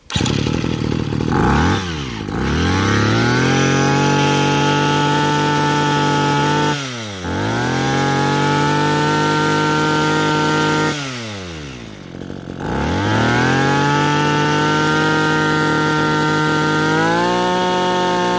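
A Komatsu G2KC 23cc backpack engine runs loud and close, revving to a high buzzing whine, then dropping briefly toward idle three times before climbing back up.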